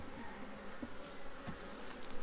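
Honeybees buzzing during a beehive inspection, a soft steady hum with a brief close pass from a single bee.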